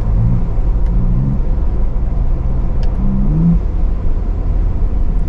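A Ford Bronco Raptor's engine pulls hard under acceleration, a loud continuous low rumble heard from inside the cabin, with two short rising tonal swells.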